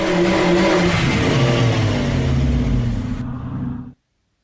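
A game car in the Ballyland coding app revs and accelerates with a loud, steady engine whoosh rising in pitch for about four seconds, then cuts off abruptly.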